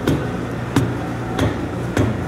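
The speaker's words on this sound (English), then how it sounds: "using a dead blow hammer" Dead blow hammer pounding hard on a Niehoff 400 amp alternator's armature shaft to drive it back through its bearings, four loud, evenly spaced blows about 0.6 seconds apart over a steady background hum.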